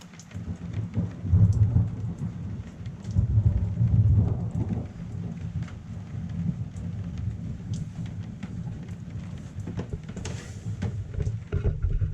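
Heavy rain pours steadily while deep rolling thunder from nearby lightning rumbles close by, swelling and fading in waves, heard aboard a sailboat.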